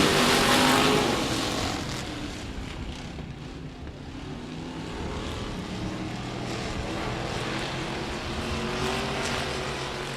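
Dwarf race cars roar off at a green flag start at 105 Speedway, engines loud and close at first, then a sustained, slightly receding pack drone with rising and falling revs.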